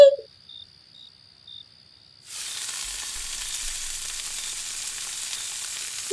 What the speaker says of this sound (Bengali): গরম গরম ভেজে দিচ্ছি, তারপরে খাস